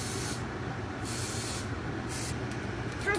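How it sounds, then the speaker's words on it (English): Cooking spray spritzed into chocolate molds for Halloween pumpkins: three or four short hissing bursts close by over a steady background rumble, no talk. "Put a little spray in each one,"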